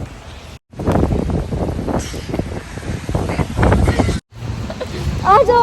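Strong wind during a snowstorm buffets the microphone in loud, roaring gusts that rise and fall for several seconds, with brief cutouts and voices talking underneath.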